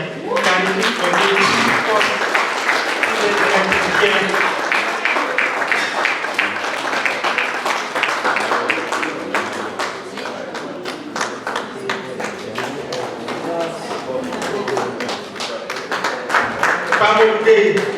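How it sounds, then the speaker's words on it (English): An audience claps and applauds in a long, dense round, with a voice speaking over the clapping at times and the clapping turning sharper and more rhythmic toward the end. "This one requires a huge round of applause."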